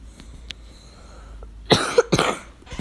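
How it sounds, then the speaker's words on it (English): A person coughs in two or three quick, harsh bursts near the end, close to the mic over a faint hum, after a few seconds of quiet. "Sorry for my coughs."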